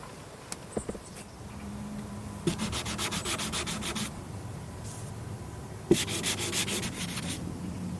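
Wood being sanded by hand during a sailboat restoration on an Ohlson 38, with two bursts of rapid rhythmic back-and-forth scratching, close and fairly loud, separated by quieter handling sounds.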